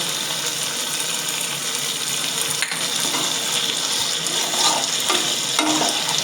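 Paneer coated in Kashmiri chili powder and spices is stirred and fried in a pan for chilli paneer. A loud, dense, continuous sizzle runs throughout, with a few scraping strokes near the end.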